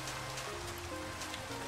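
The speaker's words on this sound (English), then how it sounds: "This rain is crazy." Steady rain pours in a Pokémon video game, a dense, even hiss with low rumble running unbroken and loud throughout, with no talking over it.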